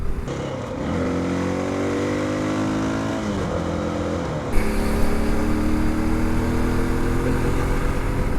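A Honda XR650L retro rally-build motorcycle's single-cylinder engine drones steadily at highway speed, its pitch climbing and dipping through gear changes, with wind rush rising after a brief bump midway.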